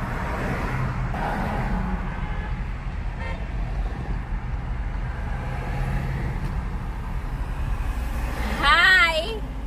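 Steady road rumble and engine hum inside a car heading out on New Year's Day, with traffic sounds around it and a brief high whistling squeal near the end.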